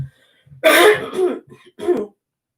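A throat clearing followed by a couple of harsh coughs, close and loud, with short pauses between bursts.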